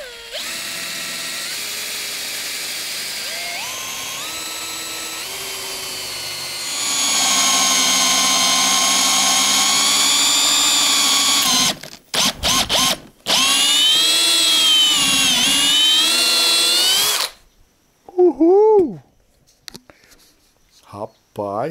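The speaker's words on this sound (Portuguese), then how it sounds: "Vou deixar o mais longa possível aqui na ponta da parafusadeira. E vamos ver se a gente consegue furar isso aqui." A cordless drill driver fitted with a long bit bores into a block of wood, whining loudly and steadily, then stopping and restarting in short bursts before falling quiet; people talk over it.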